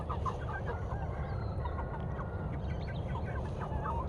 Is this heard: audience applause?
no